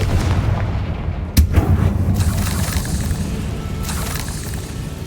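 Confringo blasting spell in the video game Hogwarts Legacy, a loud booming explosion that hits sharply and then rolls on in a rumbling, crackling wash.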